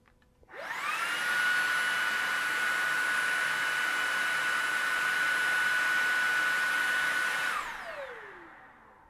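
A Shark Detect Pro cordless vacuum cleaner in boost mode spins up with a rising whine, then holds a loud, steady high-pitched whir and airy rush for about seven seconds before winding down.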